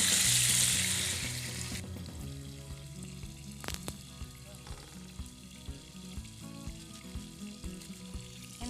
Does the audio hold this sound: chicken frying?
yes